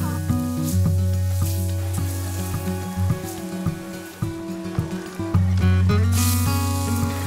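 A loud, steady sizzle of potato patties frying on a hot grill, close up, with occasional scraping clicks as pieces are moved around.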